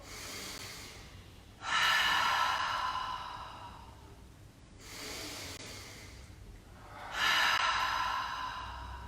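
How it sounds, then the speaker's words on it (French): Deep yoga breaths during a home session, three long airy exhales through the mouth with softer inhales between, close and quiet with no talking. "on va faire quelques grandes inspire-expire en expirant par la bouche"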